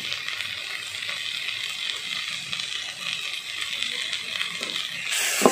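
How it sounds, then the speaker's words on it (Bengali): Fried potatoes are tipped into a pan of sizzling masala while a prawn curry is being made. A soft, steady hiss of frying runs throughout and ends in a brief clatter. "এবার ভেজে রাখা আলুগুলো আমি দিয়ে দিচ্ছি, আর আন্দাজ মতো লবণটাও দিয়ে দিলাম।"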